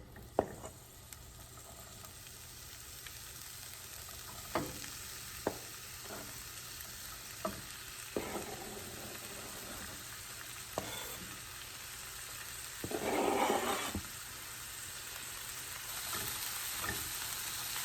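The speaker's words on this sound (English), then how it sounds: "You just want to get some color on the mushrooms and make sure the turkey bacon is somewhat cooked through." Mushrooms, onions, jalapeños and turkey bacon fry in an Instant Pot with a steady, close sizzle, broken by several sharp clinks and scrapes of stirring and a louder burst of frying near the end.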